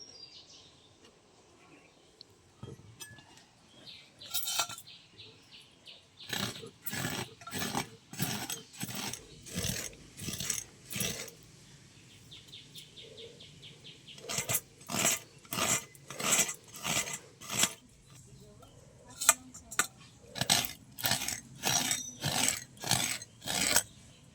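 Half a coconut is grated by hand in quick bursts of rhythmic rasping strokes, close and scratchy, split by short pauses.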